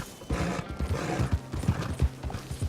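Horse hooves clip-clopping in Red Dead Redemption 2, a steady run of close, rhythmic footfalls, with a brief whinny and faint game ambience underneath.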